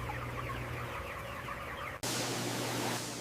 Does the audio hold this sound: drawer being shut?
no